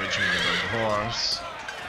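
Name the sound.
cavalry horses neighing in Empire: Total War video game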